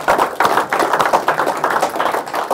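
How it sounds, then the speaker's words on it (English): A room of sales staff at a team meeting clapping together, a dense, steady patter of many hands lasting a few seconds, loud and close with no talking over it. "give yourself a round of applause"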